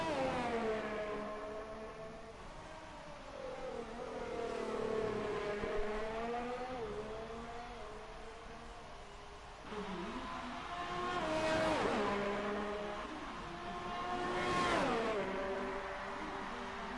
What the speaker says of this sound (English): Just the two cars now currently on track.